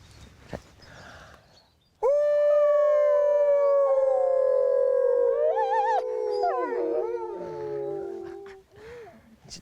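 Several wolves howl together in long, sustained, overlapping wails that rise and waver, loud and close, with a few short sounds before the chorus begins.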